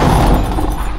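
A 120mm mortar fires a round from a front-line position, one loud, close, booming thud with a broad rushing blast that fills the short moment.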